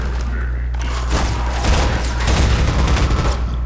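Rapid gunfire in the Half-Life 2 game, dense bursts of shots and booms piling up loudly throughout, with a voice speaking over the battle.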